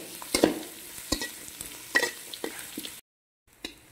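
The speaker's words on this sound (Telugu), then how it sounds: "ఒక 2 నిమిషాలు ఉల్లిపాయలను మగ్గనివ్వాలి" Chopped onions sautéing in a pan, a quiet sizzle broken by sharp scrapes and taps of a spoon stirring, then a brief silence before the stirring resumes.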